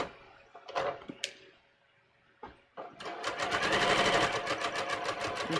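A sewing machine stitches down a seam on a bias-cut top, starting after a few scattered handling clicks and then running as a steady, loud, rapid close-up whir for the last few seconds.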